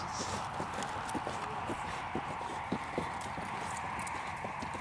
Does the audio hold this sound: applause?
no